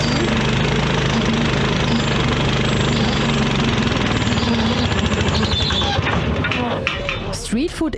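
A powerful motor drives a street sugarcane juice press at a food stall in Islamabad, Pakistan, running as a loud, steady, rough engine drone throughout, with the texture shifting near the end.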